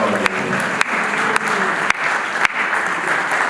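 Applause at a funeral gathering: a crowd claps steadily and loudly throughout, with a few sharper isolated claps standing out against the dense wash of hands.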